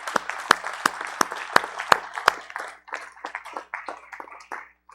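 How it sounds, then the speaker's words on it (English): A few people clap during a livestreamed worship gathering, loud sharp claps in a quick steady rhythm at first, then looser, softer and more scattered clapping that tapers off. "Give Mr. Who another hand clap because he's been worthy"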